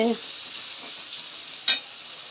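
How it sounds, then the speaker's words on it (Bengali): Tomato and onion frying in oil with a bay leaf tempering, a steady close sizzle with one sharp burst as the pan is stirred. "টমেটো আর পেঁয়াজ ভাজা হচ্ছে তেজপাতা ফোড়ন দিয়ে"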